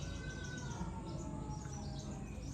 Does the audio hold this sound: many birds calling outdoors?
yes